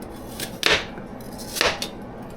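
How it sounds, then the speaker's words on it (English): A knife cutting thin apple slices around the core, two crisp chopping strokes about a second apart against a cutting board, close and clear with no talking. "we're just going to go through and cut thin slices around the core"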